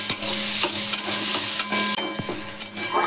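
Onion sizzles in hot oil with bay leaf and whole cumin in a pan while cooking fish kofta curry, a steady close frying hiss broken by repeated scraping stirs of a spatula.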